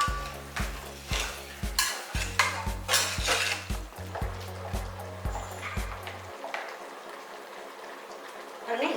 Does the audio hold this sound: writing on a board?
no